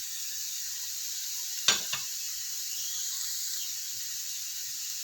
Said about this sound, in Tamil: உப்பு போட்டு வதக்கிடுங்க